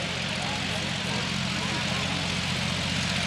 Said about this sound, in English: Let's see if we're going to get the airplane airborne today.